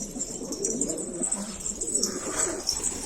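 A pigeon coos softly in a low, rolling murmur close by, with faint high chirps in the background and no talking.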